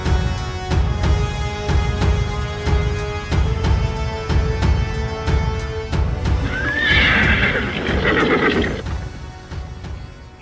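Horses with rhythmic hoofbeats clopping steadily closer, loud and near, then a shrill neigh and whinnying rise over the hooves before fading toward the end.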